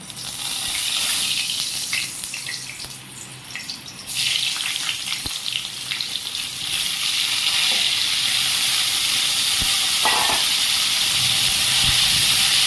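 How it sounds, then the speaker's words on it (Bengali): Steamed cauliflower frying in hot oil, a loud continuous sizzle and hiss with occasional stirring clatter throughout, no talking. "এবার ওই তেলের মধ্যেই ভাপিয়ে রাখা ফুলকপিগুলোকে একটু ভেজে নেব।"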